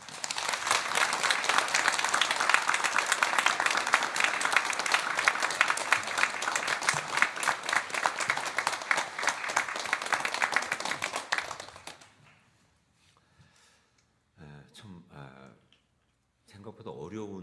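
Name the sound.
congregation applause welcoming pastor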